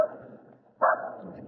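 Dogs bark excitedly in Kalimpong, a couple of quick loud barks heard close by and separated by a short pause.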